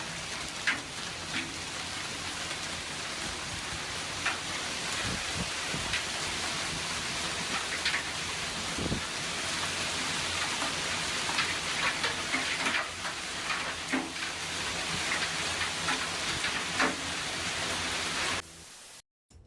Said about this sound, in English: Take a look at this extreme hail turning this person's Texas garden white.